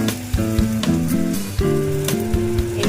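Tomato dropped into hot spiced oil for chicken kosha, a loud close sizzle with crackling pops and repeated utensil knocks as it is stirred, no speech.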